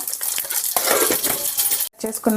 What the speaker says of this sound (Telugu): జస్ట్ ఆనియన్స్ ఇట్లా వేగుతూ ఉంటాయి కదండి